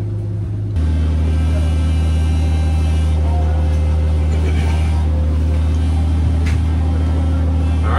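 A vehicle starts up and drives up onto land, its engine cutting in abruptly and holding a loud, steady rumbling drone with faint mechanical rattles, close and continuous.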